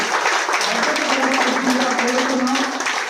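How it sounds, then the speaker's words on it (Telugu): Crowd applause at a cow worship (Go Puja) festival on Kanuma day rings out as a dense, steady clatter of many hands for the whole stretch, with a voice speaking over it. "మీరందరూ చప్పట్లతో గట్టిగా వారికి"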